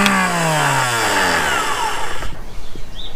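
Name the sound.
boat engine starter cranking via remote start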